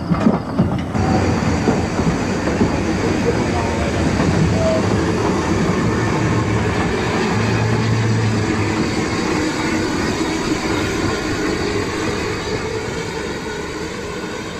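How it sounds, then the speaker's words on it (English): Steam locomotive Gothenburg draws its rake of coaches into a heritage railway station, a steady loud rumble of wheels and rolling stock with clickety-clack and faint squeal, continuous throughout with no talk. "Gothenburg runs into the station with its rake of coaches"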